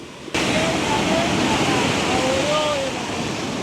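Strong ocean waves on the beach at Cayo Largo, Cuba, a loud continuous roar of surf with wind buffeting the microphone, and faint voices in the background.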